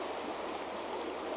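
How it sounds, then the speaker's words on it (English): A river flows steadily in a continuous soft rush of water, close and even, with no voices. "that deep peace of the river"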